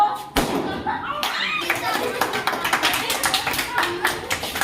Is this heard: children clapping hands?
yes